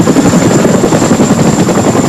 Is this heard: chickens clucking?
no